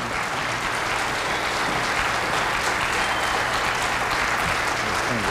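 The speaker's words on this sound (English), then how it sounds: "So I'd really like everybody to give them a round of applause" An audience at a farm forum on hydrofracking and agriculture claps steadily for several seconds, a dense, even wash of applause with no pauses or voices.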